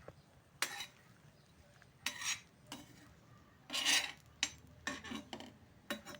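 Roasted bitter gourd is stirred in a pan with a spoon, giving quiet, scraping strokes in irregular bursts, about seven of them, over a faint background with no speech.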